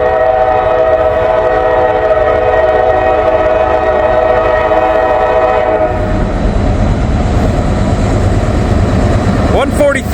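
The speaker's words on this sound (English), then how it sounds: "We got a train coming up the hill." Freight train climbing a steep hill with locomotives and helpers notched up, its horn blaring in a long sustained tone before giving way to heavy engine rumble and rolling wagons, with faint voices at times.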